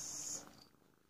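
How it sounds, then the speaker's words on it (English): A pet cat purrs faintly and briefly up close in a quiet indoor room. "my cat wants to say hi on the video"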